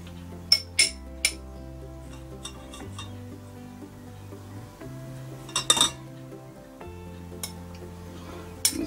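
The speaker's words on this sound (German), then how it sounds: "Ich mache dann immer hier in so kleine Schälchen so ein gutes Portionchen rein" Rice strawberry basil salad spooned into small bowls, light clinks and taps of a spoon against dishes recurring irregularly over a quiet kitchen background with soft music.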